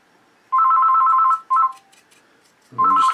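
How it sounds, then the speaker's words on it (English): A telephone rings in a workshop where a Dragon M4A3 Sherman model is being painted, giving a loud electronic tone burst, a shorter second burst and a third after a pause, close and clear. "I'll just answer the phone."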